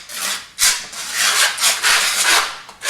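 A plastering blade scrapes and spreads InterPlast finishing plaster across a wall in loud, rough strokes, each swipe a dense rasping burst separated by brief pauses.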